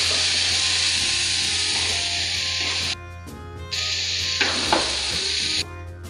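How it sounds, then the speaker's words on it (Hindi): A chicken tikka filling with masala fries in a pan, giving a loud, continuous close sizzle broken by rough scraping strokes of a spoon stirring it around. "अब ये फ्राई हो रहा है"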